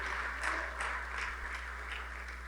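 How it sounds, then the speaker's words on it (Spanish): A church congregation claps hands together in a soft, continuous wash of applause with rhythmic swells, held at a moderate distance above a steady low electrical hum. "Dele fuerte las palmas al Cristo de la gloria."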